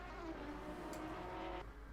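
Race car engine from Assetto Corsa Competizione screaming down the straight, a sustained loud high whine with a steady harmonic drone that drops off near the end, heard alone without commentary.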